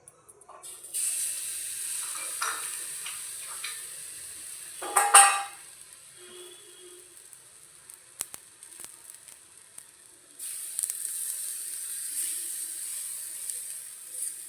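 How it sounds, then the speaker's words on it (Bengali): Vegetable semolina batter roti sizzles on a hot oiled griddle, a steady close frying hiss that flares loudly for a moment, then settles and later swells again. "এবার এটাকে আমি ভাজতে দেবো।"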